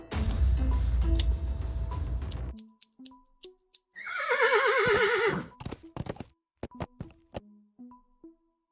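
A horse whinnies loudly in the Willy Morgan and the Curse of Bone Town adventure game, a long, quavering neigh in the middle of the clip between short clicking and tapping effects.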